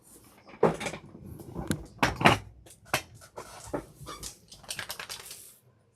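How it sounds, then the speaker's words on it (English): A dog knocks a camera over in a room during a live sports memorabilia card break, giving a burst of close clattering bangs and thumps that scatter unevenly over a few seconds before settling. "Dog just knocked the camera over."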